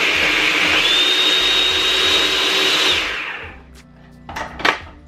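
A food processor grinds oats into flour with a loud, steady whirring motor that runs for about three seconds, then stops, leaving a few faint clatters in a small kitchen.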